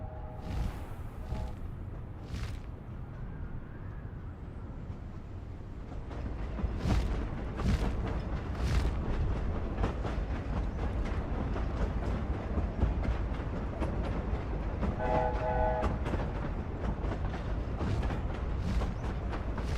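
Hogwarts Express steam train passing in the Hogwarts Legacy video game, a steady broad rumble that swells and continues throughout, with whooshing gusts and layered game ambience.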